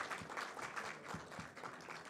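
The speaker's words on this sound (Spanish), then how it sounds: "el caluroso aplauso de su público" Audience clapping after a lecture, faint and somewhat distant, a modest crowd applauding in a steady patter with a few sharper individual claps standing out.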